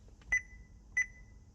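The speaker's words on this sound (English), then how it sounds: "It comes with a really annoying keypad beep" Two short electronic keypad beeps from a Joying 8-inch Android car head unit for a BMW E90/E92, sounding about half a second apart, clear and isolated against quiet background.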